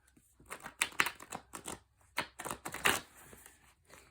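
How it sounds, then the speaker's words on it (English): Tarot cards being shuffled by hand, a series of quick crisp riffling bursts in uneven clusters, close and fairly quiet, with no talking. "Let's shuffle a couple more times here."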